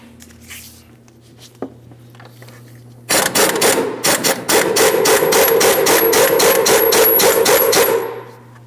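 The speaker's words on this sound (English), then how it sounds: "Let's start removing the through bolt that goes through one portion of the mount all the way through to the other side. We're using an 18mm for this." A wrench turns the 18mm transmission mount through-bolt on a 2007-2014 Ford Edge 3.5L V6. After a quiet start, loud, close ratcheting clicks come in rapid, steady bursts for about five seconds, with no talking.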